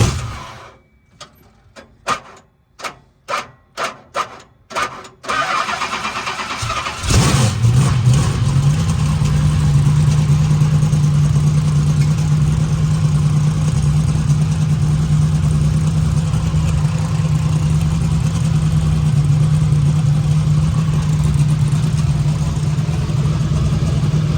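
Race transporter truck engine cranking in a rapid series of sputtering turns, then catching and settling into a loud, steady, low idle that continues to the end.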